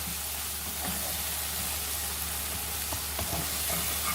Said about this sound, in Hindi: इसी तरह मसाले को आप 1-2 मिनट के लिए अच्छे से भून लेंगे